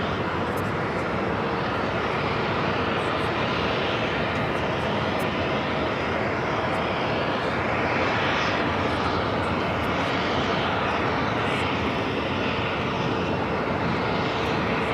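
A Frontier Airbus A320neo airliner in Harp Seal livery roars steadily at Los Angeles LAX, a loud, broad engine rush that holds for the whole stretch with a faint swelling in the middle.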